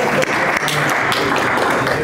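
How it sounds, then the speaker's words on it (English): Audience applause at a conference, a dense steady burst of many hands clapping together for about two seconds, loud and close, with no voices standing out. "let's give him a round of applause."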